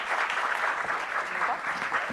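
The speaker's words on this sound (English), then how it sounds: "Can we welcome them with a big round of applause?" An audience applauds steadily to welcome guests onto the stage at a live women's panel event, a dense, even patter of clapping that holds at a constant level throughout.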